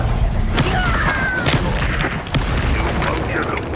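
Spell blasts explode in the video game Hogwarts Legacy, giving loud booming thuds and crashes at irregular intervals over a dense, rumbling combat background, with voices mixed in.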